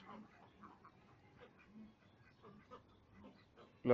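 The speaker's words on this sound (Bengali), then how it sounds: "দেখতে পাচ্ছেন এখানে কিছু হাঁস" White ducks at a duck breeding farm in Narayanganj quack softly and intermittently at a distance, scattered low calls against a quiet background.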